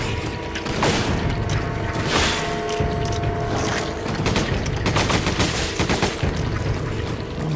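Gunfire and clanking weapon mechanisms from the video game Resident Evil 5, a dense, steady barrage of shots and metallic ratcheting at close range, with no one speaking over it.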